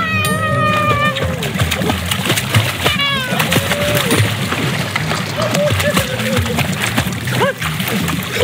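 A dog splashing while swimming in water in Minecraft on Hypixel, with continuous sloshing splashes under a high-pitched game voice and squeaky chirps.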